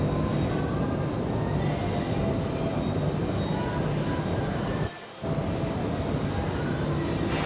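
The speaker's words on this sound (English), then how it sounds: "JetBlue A321 coming in." A JetBlue Airbus A321 coming in to land at JFK Airport, producing a loud, continuous engine rumble and roar with a brief dip near the end.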